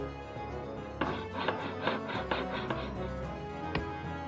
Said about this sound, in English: Keep chopping that wood.